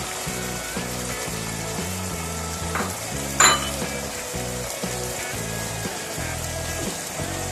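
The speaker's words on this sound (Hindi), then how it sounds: "अब इसको मैं 5 से 6 मिनट तक भून दूंगी।" Chicken keema frying with yogurt and chopped ginger in a pan, a continuous soft sizzle with one sharp clink of a utensil partway through, heard over a rhythmic low background beat.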